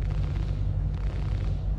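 A ship weapon in Star Citizen fires, giving a deep, continuous rumbling boom that holds steady and close throughout, without any voices over it.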